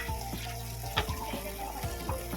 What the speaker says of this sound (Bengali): মশলাটা কষানোর জন্য আমি একটু দিয়ে দেবো জল